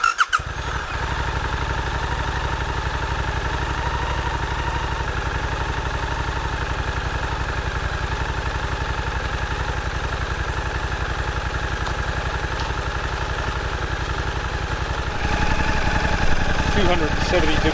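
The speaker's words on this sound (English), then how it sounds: "we're out with Suzuki 800DE V-Strom. I'm going to start it up." A Suzuki V-Strom 800DE motorcycle engine starts and settles into a steady, close idle with an even mechanical hum, then shifts to a slightly louder, busier tone near the end.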